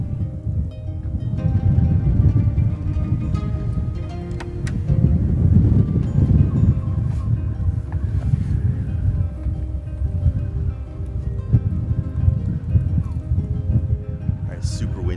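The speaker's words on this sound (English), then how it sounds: "I don't know if you guys can hear me with all this wind." Strong, warm night wind gusts roar continuously across an outdoor camp during an overland trip to Arizona, buffeting the microphone with a dense rumble and a rustle that never lets up.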